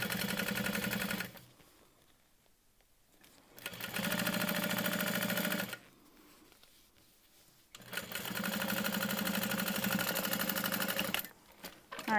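A sewing machine stitches a 3/8 inch seam on a structured tote bag, running fast and loud in three long bursts separated by brief quiet pauses.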